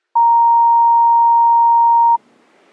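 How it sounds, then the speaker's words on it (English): A single steady electronic voicemail tone sounds loud and alone for about two seconds, then cuts off into faint room hiss. "Leave a message after the tone"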